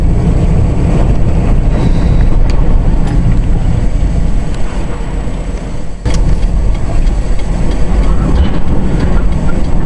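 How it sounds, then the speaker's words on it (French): A violent windstorm batters a Russian town, with loud, constant roaring gusts buffeting everything and a brief dip near the middle. "Une violente tempête de vent a frappé une ville russe, rendant la marche très difficile."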